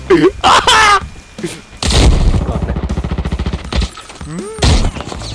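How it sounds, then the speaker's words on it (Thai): Gunfire and a grenade blast in the shooter game Arena Breakout: loud sharp shots, then a long rapid burst of automatic fire, with a voice talking at the start and near the end. "เอ้าโดนระเบิดตัวเอง"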